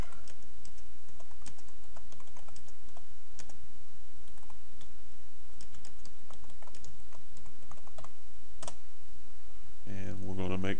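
Steady rapid typing on a computer keyboard at close range, a continuous patter of key clicks throughout with a brief different sound at the very end.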